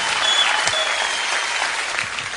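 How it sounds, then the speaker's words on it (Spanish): A crowd applauding at a Spanish-language gathering, sustained steady clapping filling the room at fairly high level, evenly spread with no talk over it. "Un aplauso para todos ellos"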